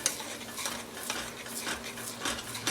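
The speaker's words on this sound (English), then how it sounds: "So I'm just stirring it to get the lumps out pretty much." Cheesy chicken broccoli ramen soup being stirred in a pot, soft repeated scraping and clinking of a utensil against the pot, quiet and close, with no voices.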